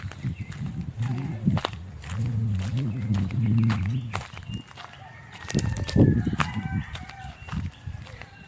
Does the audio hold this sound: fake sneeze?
no